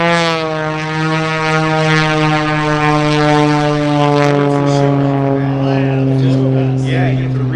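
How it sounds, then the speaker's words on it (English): Kirby Chambliss's Red Bull aerobatic propeller plane at the MCAS Miramar airshow, performing a Cobra maneuver. The engine drone holds steady and slowly falls in pitch, with an announcer talking over it throughout. "I believe he's going to throw his patented Cobra move here, where he stands the plane on the tail."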